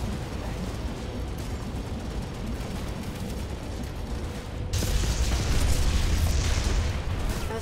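An SCU structure being destroyed in the video game Planetside 2: a loud, sustained blast that swells at the midpoint into a broad roar over a continuous backdrop of battle noise, with no voices.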